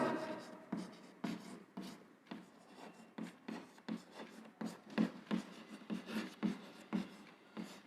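A marker or chalk scrapes and taps on a board in quick, uneven strokes while someone writes out a unit in a classroom lesson, close and fairly quiet.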